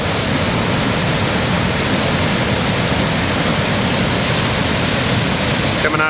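Water rushing through the log-chute channel at Rebecca Falls, on the Moose River in the Boundary Waters, as a loud, constant broadband roar that holds steady throughout.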